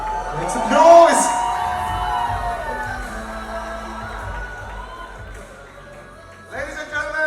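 Crowd at a live star-studded musical night, cheering and whooping loudly in a big burst that fades, then swells again at the end, with a host speaking over the noise.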